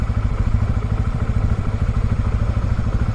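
A big motorcycle rides and leans through a turn, its engine a loud, close, throbbing rumble with a fast pulsing beat throughout.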